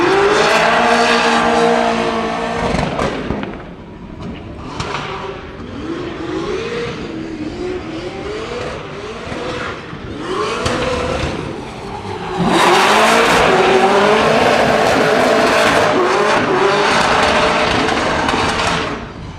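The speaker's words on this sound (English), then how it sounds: "James Dean is warming up tires" A drift car warming up its tyres at a Drift Masters event in Ireland, its engine revving hard and fluctuating in long wailing pulls, loud and close, with screaming bursts near the end.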